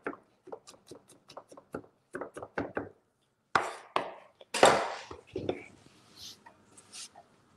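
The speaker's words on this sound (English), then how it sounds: "So chop natin yung garlic and onion." Garlic and onion are chopped with a knife on a board, giving a quick run of crisp, close taps that slows into scattered cuts and scraping, mixed with soft speech.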